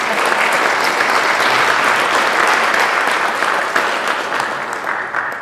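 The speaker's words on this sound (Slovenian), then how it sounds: "Tako, ja, en aplavz." Sustained applause from an audience fills an evening talk event in a hall, steady and dense throughout with no speech on top, tapering slightly near the end.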